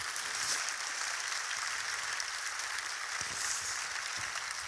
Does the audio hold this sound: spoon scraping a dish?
no